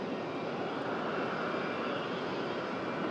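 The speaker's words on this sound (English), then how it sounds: "High-powered engine runs there on the threshold." A Dassault Falcon 900 business jet runs its engines at high power on the runway threshold at Sydney Airport, a steady, dense roar heard at a moderate distance.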